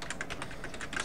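Fingers type quickly on a computer keyboard, producing a rapid run of light, close key clicks in an even rhythm with no talking.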